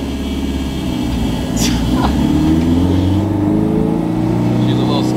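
A K-swapped Subaru BRZ race car engine idles unevenly with the AC on, its low drone wavering and surging up and down, with a brief rise partway through.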